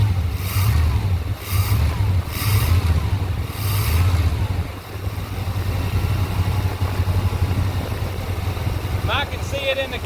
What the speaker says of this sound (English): Let you look while I hit the throttle.